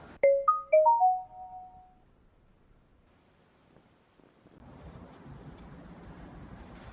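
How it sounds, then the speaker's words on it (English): Order notification jingle from the Delivery Dudes delivery app, a bright chime of rising tones played twice at the start, then quiet, followed by soft wind-like rustle outdoors. "That jingle indicates that someone has placed an order via Delivery Dudes."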